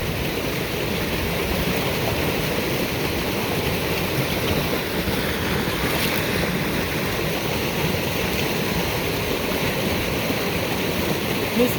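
Water in an irrigation ditch rushes steadily through old cement form-board gates in the high desert, a continuous broadband wash without pause, close and fairly loud with no talking.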